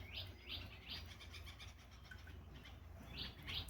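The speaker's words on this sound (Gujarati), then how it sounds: "તો લીંબોડીમાં ચકલીઓ આવવા લાગી" Sparrows chirp in a neem tree in a village, giving short bright bursts in a loose rhythm, clustered early and again near the end, over a steady low outdoor hum.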